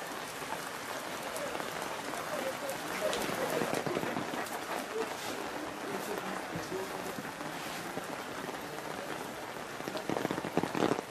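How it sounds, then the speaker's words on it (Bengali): Heavy rain falls steadily in the Himalayan hills on the way from Upper Sinuwa toward Bamboo, a dense hiss with scattered louder drops, and voices talk over it. "প্রচণ্ড বৃষ্টি পড়ছে তখন।"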